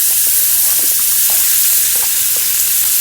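Onions sizzle in oil and butter for a salmon sauce in a steady, bright frying hiss close up, with small pops and soft stirring scrapes throughout.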